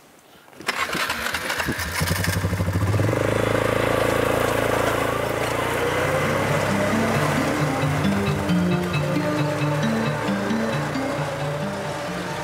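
A four-wheeler ATV starting up and riding in the Ozarks of Arkansas, a loud continuous engine drone that rises and shifts pitch as it revs, close and steady throughout with no talk.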